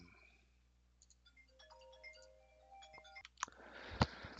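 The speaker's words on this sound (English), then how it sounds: "sorry, I just got a phone call" A phone ringtone for an incoming call plays as a quiet melodic sequence of electronic tones, followed by a few louder clicks and rustles as the phone is handled.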